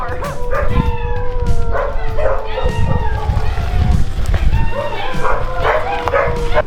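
Several town dogs in Santa Rosalia, Mexico bark and yip repeatedly, some howling and whining, close by and loud, overlapping in a continuous noisy chorus.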